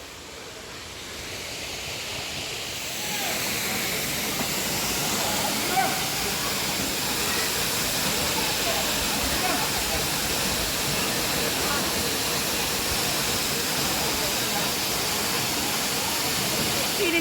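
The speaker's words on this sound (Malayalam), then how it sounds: "അങ്ങനെ ഞങ്ങൾ വെള്ളച്ചാട്ടത്തിൻ്റെ കളകളാരവത്തിലേക്ക് അടുക്കുകയാണ്" A waterfall in Wayanad roaring ahead, a broad continuous rush of falling water that swells louder after the first few seconds and then holds as a dense, steady roar.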